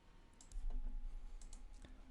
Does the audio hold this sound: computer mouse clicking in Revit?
yes